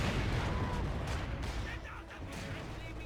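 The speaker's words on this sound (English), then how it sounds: "That was a pretty good mortar hit." A mortar shell lands in the real-time strategy game Company of Heroes 2, a dense rumbling blast mixed with distant battle noise, with a commentator talking over it.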